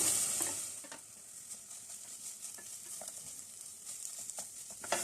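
Shredded boiled chicken stirred into ginger paste frying in a pan, a steady close sizzle with scraping stir strokes and soft clinks repeating throughout, no talking.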